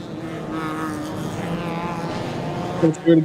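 Race cars circle the Bangsaen Grand Prix street circuit in 2025 as the safety car prepares to pull away. Their engines make a steady, fairly loud drone that swells into a couple of sharper bursts near the end.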